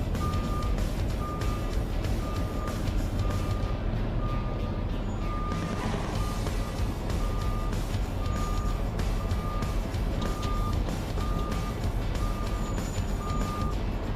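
A Peterbilt 536 truck backs up in a shop parking lot, its reversing alarm beeping in a steady, evenly spaced series over a continuous low diesel engine rumble, close and loud throughout.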